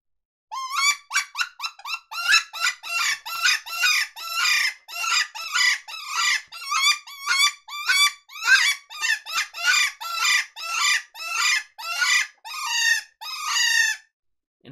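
A coyote hunting hand call blown with a twiddling tongue, giving crisp, high-pitched bird and rodent distress squeals in rapid, steady bursts throughout, loud and close with no talk.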